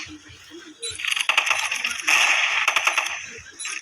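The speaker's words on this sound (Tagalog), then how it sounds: "Ang sarap sa tenga ng tunog ng baril na to guys." UMP 45 submachine gun fire in a video game: several quick bursts of sharp metallic shots, the rapid clicks crisp and fairly close, with a couple of pauses between volleys.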